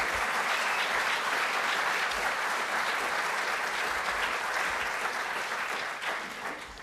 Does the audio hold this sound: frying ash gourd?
no